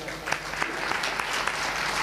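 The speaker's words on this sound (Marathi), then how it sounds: "खरंच दादासाठी एकदा टाळी वाजवा." An audience at a Ram Katha discourse in Alandi bursts into applause, a steady wash of many hands clapping close and fairly loud for the whole stretch, with faint voices mixed in.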